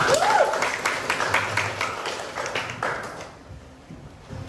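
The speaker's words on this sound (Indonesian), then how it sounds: "Oke, aplaus untuk ini." A class of year-12 high school students claps together in a classroom, a dense wash of applause that holds steady for several seconds, then thins and fades toward the end.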